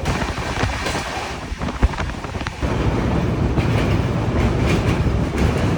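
A fast train thunders past a station without stopping, wheels clattering rhythmically over the rails, with wind buffeting the microphone and the roar growing louder midway.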